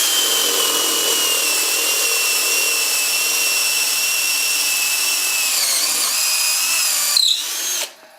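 A drill bores through the work at an angle with a loud, steady high whine. The pitch dips slightly near the end, then a short knock is heard and the drill winds down and stops.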